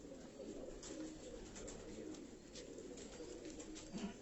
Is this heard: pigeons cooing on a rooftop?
yes